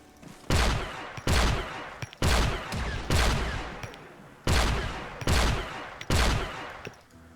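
Gunfire from a Star Wars video game, about eight loud, sharp blasts spaced roughly a second apart, each followed by a short decaying tail, with no talking over them.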